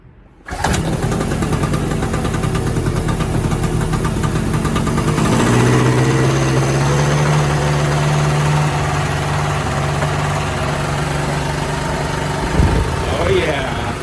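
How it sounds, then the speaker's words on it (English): A 2004 Kinzo 30L801 two-stroke 220V 650VA generator cranks and catches, then runs steadily with a loud, buzzing engine drone that settles to an even idle, close by and continuous throughout. "Let's give it a crank here."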